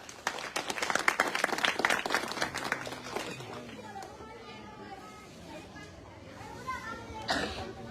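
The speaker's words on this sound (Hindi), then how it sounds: "आप सब लोग जोरदार तालियों के साथ उनका अभिनंदन करें" A crowd at a village blanket-distribution event in Mainpuri, India, breaks into loud applause that fades after a few seconds, leaving murmuring chatter in the background.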